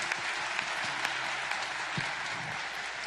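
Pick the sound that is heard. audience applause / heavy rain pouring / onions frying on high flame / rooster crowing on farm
audience applause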